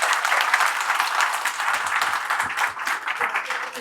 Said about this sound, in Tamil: அவங்களுக்கு நம்ம ஒரு பெரிய கைத்தட்டி அவங்கள நம்ம வெல்கம் பண்ணுவோம்